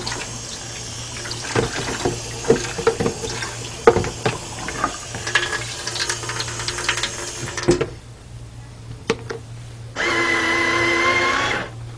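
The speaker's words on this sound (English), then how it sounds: "And dump the water out, then rinse everything off." Water is dumped out and supplies are rinsed in a sink during CNA skills practice: splashes and clatter of items, a brief pause, then a steady rush of running tap water at the end.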